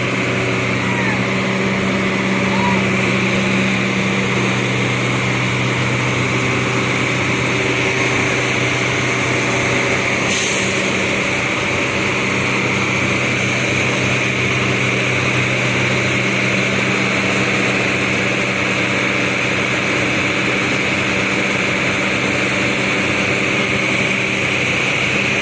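A bus engine idles steadily while warming up, a continuous low rumble with a faint high whine held throughout, with brief talk over it.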